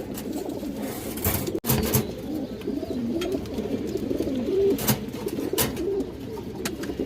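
Pigeons, including China khaki males, coo continuously at a bird market, a layered low warbling from several birds nearby, with a couple of brief thumps and rustles.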